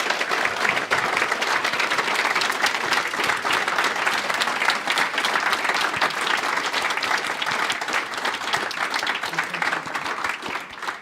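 Sustained crowd applause at a regional volunteer awards event, loud and continuous with crisp individual claps throughout, a few voices faintly mixed in.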